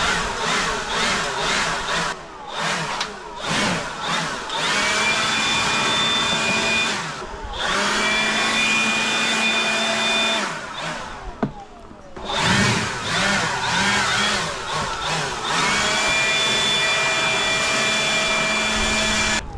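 A blower clears debris in steady loud bursts with several short pauses between runs, close by, in an outdoor work setting with trees nearby.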